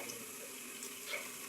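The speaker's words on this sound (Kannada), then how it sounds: "ಇವಾಗ ಸ್ವಲ್ಪ ಹಾಲು ಹಾಕ್ತಿದ್ದೀನಿ." Milk being poured into a pot of banana payasam, a steady soft liquid splash running continuously for about a second and a half with a slight swell near the end, close and alone.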